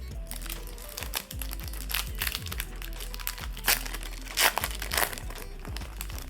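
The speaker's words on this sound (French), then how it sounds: "Allez, on est parti pour ouvrir ce premier booster ensemble." A Pokémon card booster pack is torn open by hand, its foil wrapper crinkling and crackling loudly and continuously right up close, with sharp snaps scattered throughout.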